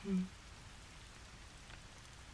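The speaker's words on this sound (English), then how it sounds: "The rain sounds really lovely in here." Soft steady rain falling outside a quiet room, a faint continuous patter throughout, with a brief low murmur at the start.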